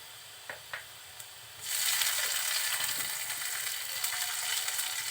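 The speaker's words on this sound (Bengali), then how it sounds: "জিরেটা যখন এভাবে ফুটতে শুরু করবে," Cumin and salt hit hot oil for poi shak bhaji. A few soft clicks come first, then a bright, close sizzle rises suddenly and keeps crackling steadily to the end.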